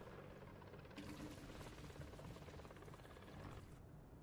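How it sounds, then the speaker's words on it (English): Enemy helicopter in a multi-crew tank combat video game: a steady, dense rotor chop and engine drone that swells louder in the middle and stays continuous throughout, with no talking. "Sure you can hear that enemy chopper."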